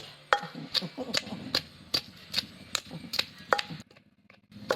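Steady rhythmic thuds of a pestle pounding straw mushrooms and chili in a mortar, about ten blows at a quick even beat, close by, with a brief pause near the end.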